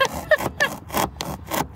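Steak knife sawing through styrofoam, a rapid rhythmic back-and-forth rasping with about six strokes in under two seconds, close and squeaky.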